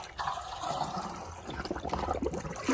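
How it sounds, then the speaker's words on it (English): Rainwater is poured into a 2-gallon pitcher, a continuous splashing and gurgling fill that is fairly close, with uneven bursts of sloshing throughout. "I'm just going to go ahead and grab some water"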